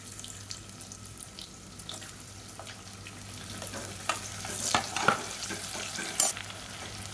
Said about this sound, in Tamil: இப்போ இதில் பெரிய வெங்காயம் நீளமாக நறுக்குனதை சேர்த்துக்கலாம்.